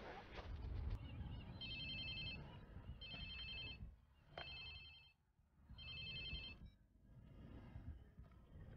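A phone rings in the Watch Dogs 2 video game, repeating in four even bursts between quieter gaps over steady background sound.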